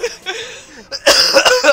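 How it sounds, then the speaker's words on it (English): A person coughing from laughing, a strained breathy wheeze followed by several loud, close, sharp coughs in a quick burst. "I haven't laughed so hard, I've coughed"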